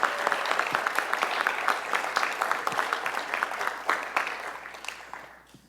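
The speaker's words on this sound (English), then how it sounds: "Let's give a big round of applause for all our individuals being promoted." Audience applause at a fire department promotion ceremony in Louisville, many hands clapping in a sustained, crackling burst with sharp individual claps standing out, gradually thinning and fading away at the end.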